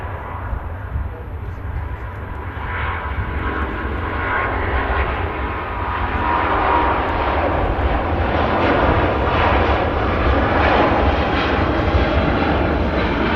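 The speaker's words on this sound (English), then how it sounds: "For the A350 1000." Airbus A350-1000 airliner at Manchester Airport, its engines giving a steady, loud broadband roar that swells slightly and holds throughout, heard from a distance with faint voices in the background.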